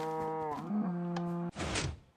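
In Minecraft, a cow gives a long, wavering moo that rises and settles, heard up close. A sudden burst of broadband noise follows and trails off near the end.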